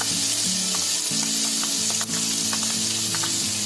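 Dragon chicken sizzling and frying in a pan while being stirred, a steady hiss with scattered spoon scrapes, close and loud; a person speaks over it.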